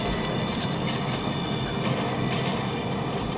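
A train rumbles past in the video game GTA V, a loud, steady mechanical roar with faint repeating rail clicks, close and continuous.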